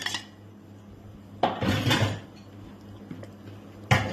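Moong dal chilla batter mixed with tomato, garlic and chilli gravy, stirred in a bowl: a spoon clinks and scrapes against the dish in bursts, close and fairly loud, with quieter scraping between.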